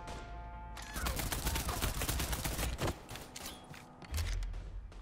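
Mafia III gameplay erupts with a dense burst of rapid gunfire lasting about two seconds, followed by a single sharp crack and a lower rumble as the shooting trails off.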